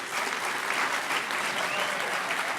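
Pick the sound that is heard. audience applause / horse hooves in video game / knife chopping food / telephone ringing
audience applause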